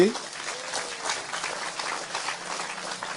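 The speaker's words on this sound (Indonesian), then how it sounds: "Tepuk tangan untuk Mas Taufik Ismail sekali lagi" An audience at a Kenduri Cinta Maiyah gathering breaks into sustained, dense applause that continues steadily throughout, with a voice heard faintly underneath.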